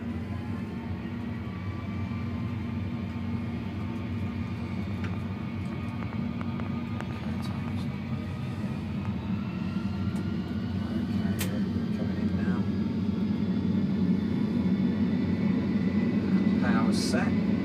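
Airliner engines spooling up for takeoff at Stansted, a steady loud low roar that builds slightly over the run, with speech heard over the noise.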